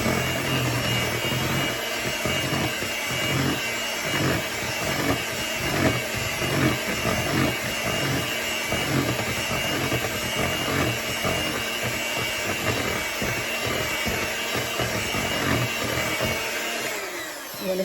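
An electric mixer runs steadily through apple fritter cake batter, a continuous close whirring hum with rhythmic scraping pulses against the bowl, cutting off near the end.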